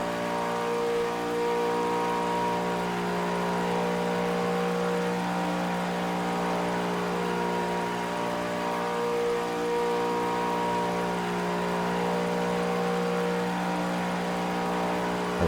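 Steady rain falling in the Project CARS racing game, a constant hiss and patter across the whole stretch with a low engine hum underneath, no talking.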